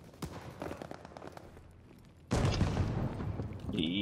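Shotgun blasts in a first-person shooter video game: scattered sharp reports, then a loud sustained burst of heavy gunfire and booms, with no talking.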